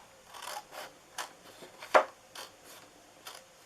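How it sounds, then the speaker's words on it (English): Scissors snip through cardstock for a DIY Easter cookie box, making a handful of soft, separate crisp cuts with one sharper snip near the middle, faint and close with no talk. "We're going to cut this 1/2 inch off all the way down"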